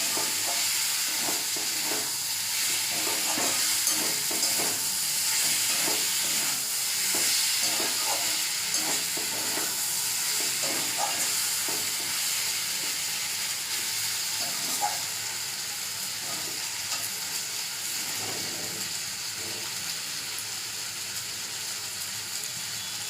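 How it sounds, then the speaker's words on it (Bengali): Neem leaves and eggplant frying and being stirred in a pan, giving a steady sizzle with scraping stir strokes throughout, close and continuous, with no talk. "এবার ভেজে রাখা নিম পাতাটা দিয়ে দিচ্ছি এবার বেগুনের সাথে ভালো করে মিশিয়ে নিলাম"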